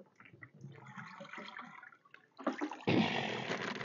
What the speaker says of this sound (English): Let me put some more water here in this basket.